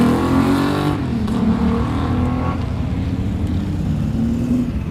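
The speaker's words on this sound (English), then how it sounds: "That familiar Holden 6-cylinder engine note." A loud, close Holden six-cylinder touring car engine roars steadily at high revs while racing, its note shifting slightly as it runs on without pause.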